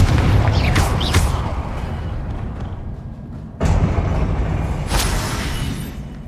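Confringo blasting spell in Hogwarts Legacy, a loud booming explosion with a sharp onset, followed by a second heavy blast about three seconds later amid crackling debris and rumble.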